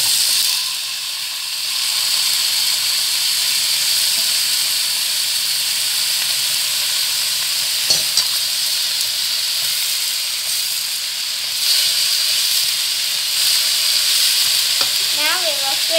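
Ti Wang Cai (emperor vegetable) frying in a pan, giving a steady loud sizzle and hiss that continues throughout, with a few brief clatters of stirring near the end.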